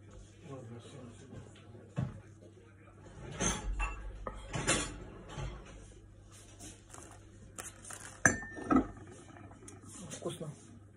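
Plates set into a home dishwasher in a busy kitchen, several scattered clinks and clatters of crockery with rattling racks, heard under frequent nearby talk.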